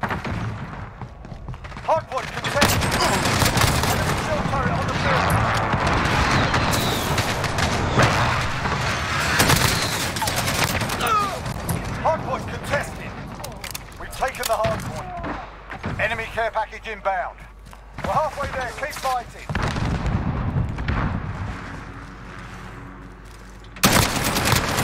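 Rapid SCAR rifle bursts in Modern Warfare, fired in dense, loud volleys with booming impacts and game effects, almost continuous through the stretch, while players talk excitedly over the shooting.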